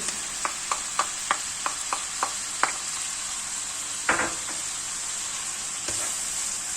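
Ground meat and onions sizzle steadily in a pan for moussaka, a constant frying hiss with a series of sharp spoon taps and scrapes against the pan near the start.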